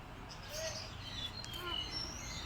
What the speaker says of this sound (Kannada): ಇಲ್ಲಿ ನೋಡಿ, ಆರೆಂಜ್ ವಿಂಗ್ಡ್ ಅಮೆಜಾನ್ ಬರ್ಡ್